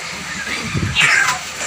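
A voice imitates a cat with a short, wavering meow, close and fairly loud over a steady background hiss.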